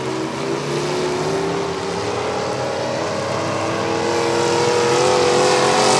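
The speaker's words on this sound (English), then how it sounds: "How many running vehicles we got left out here, Eric?" Several demolition-derby cars towing trailers race around the Rockford Speedway track, their engines roaring together in a dense, continuous drone that builds slightly toward the end, loud and steady without any voices.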